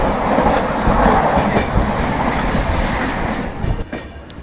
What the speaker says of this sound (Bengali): শিয়ালদা নিউ দিল্লি রাজধানী এক্সপ্রেস মারাত্মক স্পিডে পাসিং করছে